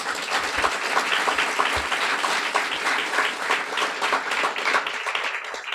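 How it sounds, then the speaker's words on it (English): An audience at a guide dog school graduation ceremony applauds warmly, a steady wash of many hands clapping that holds evenly throughout. "A warm round of applause."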